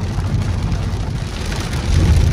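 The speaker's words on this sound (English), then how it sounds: "the rain is coming down now" Heavy rain from a severe thunderstorm near Phoenix, heard while driving: a dense, steady wash of rainfall with low rumbling road noise beneath, growing slightly louder toward the end.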